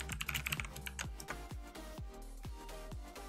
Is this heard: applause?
no